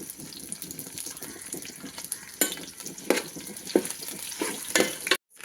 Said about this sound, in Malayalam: പിന്നെ നമ്മൾ കറിവേപ്പില ഇടുന്നുണ്ട് 2 തണ്ട്.